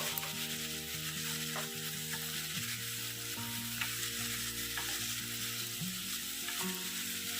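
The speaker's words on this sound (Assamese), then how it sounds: "ইয়াতে অলপমান হালধি দি দিছোঁ আৰু নিমখ অলপ দিছোঁ, তেতিয়া সোনকালে আলুখিনি ভজা যাব" Potatoes frying in oil with turmeric and salt, a constant low sizzle with occasional stirring knocks, while steady tonal music plays over it throughout.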